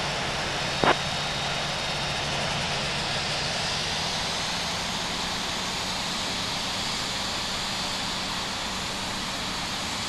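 Jet airliner engines spool up for a takeoff roll in the Infinite Flight game on the way out of London Heathrow, a steady broad roar with a low hum holding for the whole stretch and a brief click near the start.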